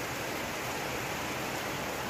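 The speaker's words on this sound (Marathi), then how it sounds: "पाऊस आत्ता सुरू झाला आहे" Steady evening rainfall at a village in Ratnagiri, heard as an even, unbroken wash of hissing noise, fairly loud and uniform throughout, without any voices.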